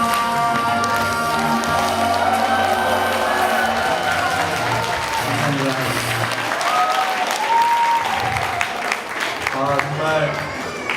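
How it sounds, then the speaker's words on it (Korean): Audience applause breaks out at a wedding after a congratulatory song, steady and full throughout. It comes with crowd noise, a lingering musical tone and a voice talking over it. "큰 박수 한번 다시 한번."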